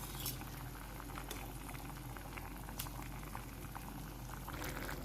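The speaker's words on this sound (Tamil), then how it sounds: "அதில் வந்து 3 கப்பு தேங்காய் பால் சேர்க்கணும். சேர்த்து கொதிக்கணும்." Coconut milk and water boiling in a pot for vegetable biryani, a soft, continuous bubbling and popping close by, faint and with no talk over it.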